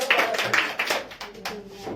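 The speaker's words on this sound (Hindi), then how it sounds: "सही है, एक बार जोरदार ताली" A burst of quick, uneven clapping rewards a correct answer during a quiz-style show, brief and close-sounding, with some talking mixed in.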